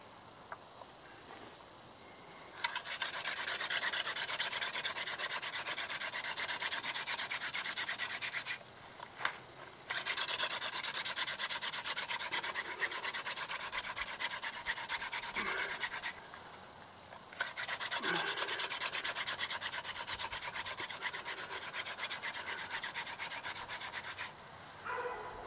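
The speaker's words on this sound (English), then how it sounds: "the first part of hand drilling, you're creating the dust" Wooden hand drill spun against a board for friction fire, giving a rhythmic dry rubbing, scratching rasp in three long sustained bouts separated by short pauses, close and fairly quiet.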